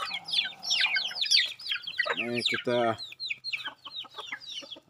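Chickens on a small farm, including a black male turkey among them, cluck and chatter at feeding time in the late afternoon, busy and close, while someone speaks briefly over them.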